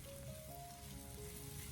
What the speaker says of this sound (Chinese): 然后再把土豆片直接的放进锅里面，给它翻炒一下，将其翻炒均匀